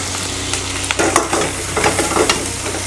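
Whole spices crackling in hot groundnut oil, a steady broadband sizzle with a few louder bursts and stirring scrapes, close by with no voices.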